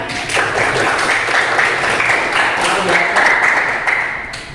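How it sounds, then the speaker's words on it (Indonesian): A classroom of students claps steadily for two classmates, a close, even patter of many hands that lasts several seconds with voices mixed in. "Berikan tepuk tangan untuk kedua teman kalian"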